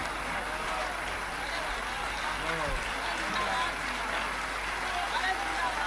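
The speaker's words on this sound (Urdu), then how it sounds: "باپو آشیرواد سوروپ آپ کے لیے اب تک تالیاں بجا رہے ہیں" An audience claps at an Indo-Pak poetry recital, a steady, diffuse wash of applause that sounds somewhat distant and runs throughout while someone speaks over it.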